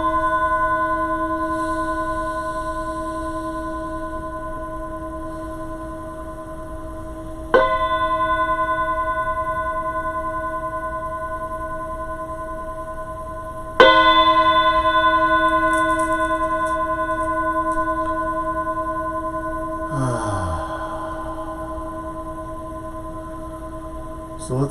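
Meditation bell struck three times during a live-streamed practice session, each strike a clear resonant ring with long sustained overtones that decay slowly and overlap the next, followed by a softer swirling shimmer near the end.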